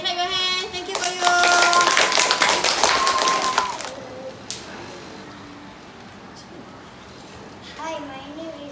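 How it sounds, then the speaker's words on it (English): An audience of children claps hands in a dense, close burst of applause lasting a couple of seconds, with someone speaking over it before and after. "Okay, clap your hands."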